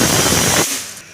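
Pressure cooker whistle while chicken soup cooks, a loud, harsh rushing hiss of escaping steam lasting about half a second before cutting off abruptly into a quiet tail.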